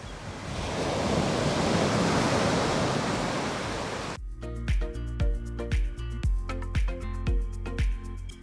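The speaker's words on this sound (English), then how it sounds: "The waves are very intense." Intense ocean waves crash on a beach in Huatulco, Mexico, a loud continuous roar of surf for about four seconds before music abruptly takes over.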